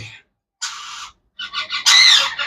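A red-collared lory gives harsh, raspy screeches in short bursts separated by brief gaps, close and loud, ending in a longer, piercing squawk.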